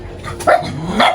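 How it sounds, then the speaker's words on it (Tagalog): Dogs bark a few times at a home where people are cooking, two sharp barks close by over a low background murmur, without anyone speaking. "Dito yung mga aso."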